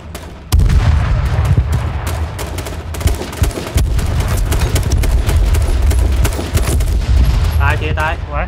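Loud, dense gunfire and booming blasts from an H1Z1 video game firefight run nearly nonstop, with a grenade explosion among the bursts.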